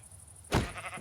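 Sheep bleating in the Minecraft video game, one short bleat breaking out of near-silence partway through and trailing off quickly.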